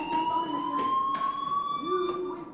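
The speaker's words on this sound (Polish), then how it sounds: "Hey, do you hear that fire alarm? That means you should be outside." A steady electronic fire alarm rings in the video game Life Is Strange, a continuous high warbling tone held throughout with faint background noise and no clear speech over it.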